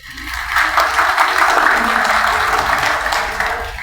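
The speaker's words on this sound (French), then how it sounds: "je vous demande de l'applaudir s'il vous plaît" An audience at an AI training event applauds a speaker, the clapping swelling quickly and holding steady and close before starting to thin toward the end.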